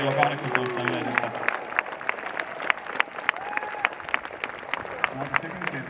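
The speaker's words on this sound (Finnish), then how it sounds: "Kello 13 yleisestä lähti ainakin ihan hyvät suosionosoitukset" Applause from spectators at a samurai horseback archery (yabusame) event in Helsinki, a steady crackle of clapping from a crowd, with brief voices heard early and near the end.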